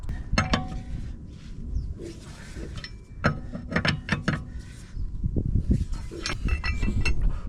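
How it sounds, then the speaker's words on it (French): Wheel bolts are broken loose on a Tesla Model 3 before the wheel is fully lifted, giving irregular metallic clicks, clinks and ratcheting scrapes close by at moderate level, with brief pauses between bursts. "Avant de soulever entièrement la roue, je vais débloquer les boulons."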